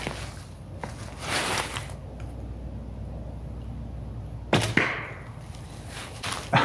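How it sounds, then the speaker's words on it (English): Arrow shot from a traditional bow fitted with wool string silencers, a soft muted release followed by a sharp thud of the arrow striking a tree outdoors, with a second sharp hit near the end. "I think the only thing you really hear is the echo from the arrow hitting the tree"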